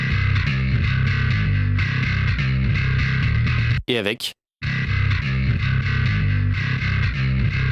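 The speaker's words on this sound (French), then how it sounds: "J'ai fait un envoi du kick de la batterie vers la basse, pour compresser la basse à chaque fois que le kick tape." Bass in a mix, sidechain-compressed by the kick drum so it ducks and pumps on each kick hit. The full dense mix plays loud, broken by a brief glitchy cut and a short spoken phrase.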